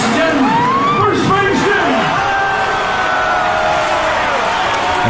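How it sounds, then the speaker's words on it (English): A concert crowd cheering and yelling, a loud continuous roar with whoops and shouts rising over it, filling the whole stretch at close range. "And the crowd goes nuts."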